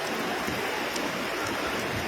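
Heavy rain falls over Kanjirappally town in Kerala during flooding, a dense, steady wash of hiss with no breaks and no voices.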